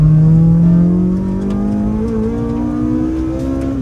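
An early-2000s Honda Civic Type R fitted with a full aftermarket exhaust system revs loudly and close by, with a strong droning tone that dips and then climbs steadily as the engine speed rises, and no talk over it.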